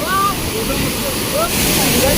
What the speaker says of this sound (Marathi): पाणी आता थोडस कमी झालंय तरी भरपूर फोर्स आहे भरपूर पाणी आहे